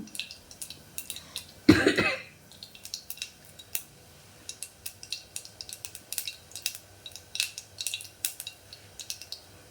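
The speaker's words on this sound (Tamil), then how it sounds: "கடுகு நல்லா பொரியட்டும்." Mustard seeds spluttering in hot oil in a home kitchen pan, a scatter of small sharp pops and crackles at an irregular rhythm, with one louder clatter early on, close and fairly quiet.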